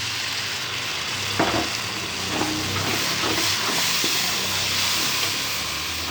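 Tomato paste goes into onions, garlic and green chilies frying for a white chickpea curry, giving a steady loud sizzle with a few stirring scrapes, no voices.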